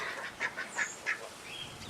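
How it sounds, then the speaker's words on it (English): Ducks and geese at a farm pond at feeding time, a run of four or five short, fairly near quacks and honks over a steady outdoor background, with fainter calls farther off. "And then we have the geese, and they have their big pond."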